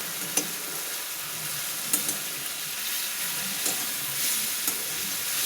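Jute leaves fry in rohu fish oil with a steady, close hiss and sizzle, broken by a few soft clicks of stirring, and no voices.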